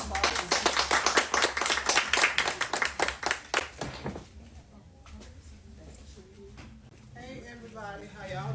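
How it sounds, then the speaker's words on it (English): Audience applause for a keynote speaker at a health and wellness expo, dense clapping for about four seconds that then fades into quieter room noise with a voice beginning near the end. "So let's give her a round of applause."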